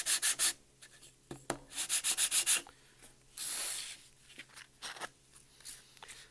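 Sandpaper rubs over a wooden surface of a handmade wooden toy in short bursts of quick, scratchy strokes, some rapid and rhythmic, with pauses between passes; close and fairly faint, no talking.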